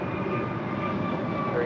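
Steady whining engine drone of a Boeing 777 airliner taxiing at LAX, continuous and fairly loud for under two seconds, with faint radio-style talk mixed underneath.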